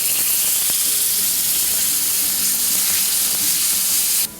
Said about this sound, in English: Usually about a couple minutes on each side is all you need to do to get a good sear on the steak